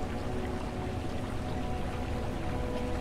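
Water pours steadily in an underwater scene in the game ABZÛ, a continuous even rushing stream at moderate level with no talk.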